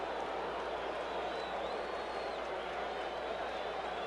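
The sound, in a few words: baseball crowd reacting at World Series game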